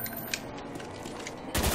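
Gunfire in Black Ops Zombies: a dense, continuous rattle of game shots under the soundtrack, ending in a louder, brighter burst.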